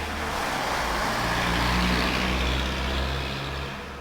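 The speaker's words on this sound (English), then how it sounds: "if I just actually play that back now, you'll see that the car pass" A car passing by, a steady broadband roadway rush that swells toward the middle and slowly fades, loud and continuous with no gaps and no voices.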